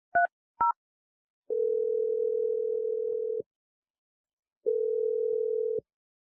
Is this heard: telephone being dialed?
yes